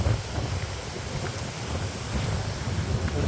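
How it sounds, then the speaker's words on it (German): Strong wind whistling through palm trees buffets the microphone in a steady low roar with gusty surges, and a faint wash like surf sits underneath. "Es ist ziemlich windig. An den Palmen hier, das pfeift hier wie Sau."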